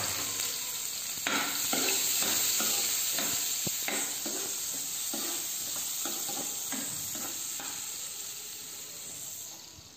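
Onions frying and being stirred in hot oil with cinnamon, black pepper, cardamom and dried red chillies, a steady close sizzle broken by repeated scraping stirs of a spoon in the pan.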